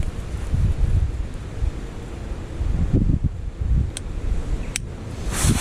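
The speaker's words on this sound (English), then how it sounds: "Wind keeps blowing the damn flame out." Wind gusts outdoors during a motorcycle dash cam install on a Ransomes HR300, buffeting the microphone with a steady low rumble that swells and eases, broken by a couple of brief sharp clicks.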